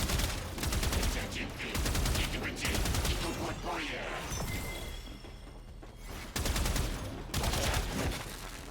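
Primary-weapon gunfire in the game Warframe: loud bursts of rapid shots in repeated volleys with brief pauses between, layered over a dense background of in-game effects.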